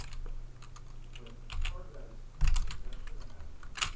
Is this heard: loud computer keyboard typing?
yes